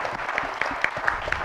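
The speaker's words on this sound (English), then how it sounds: "round of applause" Brief round of applause from an audience at a mobile app marketing meetup, scattered hand claps standing out over a moderate wash of clapping.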